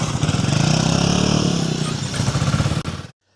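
A motorcycle engine on a flat track drones steadily up close, its rapid pulsing note holding for about three seconds before cutting off abruptly.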